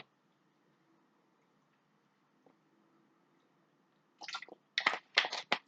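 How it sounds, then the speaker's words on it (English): A person takes a quick sip of water, leaving a few short wet slurps and swallowing clicks close to the microphone after a long near-silent stretch. "just need to have a quick sip of water"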